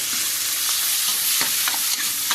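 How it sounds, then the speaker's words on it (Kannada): Whole green chilies fry in hot oil in a pan for a mushroom gravy, sending up a continuous loud sizzle broken by several sharp spoon scrapes and taps. "ಫ್ರೈ ಆಗಲಿ ಚೆನ್ನಾಗಿ"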